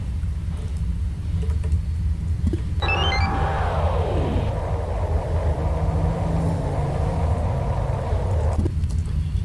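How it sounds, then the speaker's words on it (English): A vacuum venting effect in the sci-fi game Duskers: a few high beeps, then a falling electronic tone that gives way to a steady broad whoosh, which holds for several seconds and stops abruptly over a constant low hum. "It's gonna do vacuum thing."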